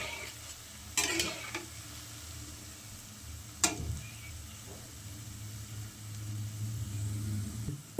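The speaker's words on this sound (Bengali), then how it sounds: "এবার আমি বড়াগুলো লাল লাল করে ভেজে নিব।" Palm fruit fritters deep fry quietly in oil, a soft, steady bubbling broken by a couple of sharp utensil clinks and a brief scrape; no talking.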